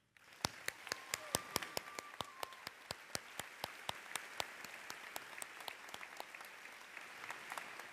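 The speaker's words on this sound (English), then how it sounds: "I'd like a warm applause for Laura Baker, her entire team that's helped make this convocation possible" A school convocation audience claps, sharp separate hand claps sounding in a quick, uneven rhythm. The applause stays moderately loud and nearby across the whole stretch, slowly thinning out near the end.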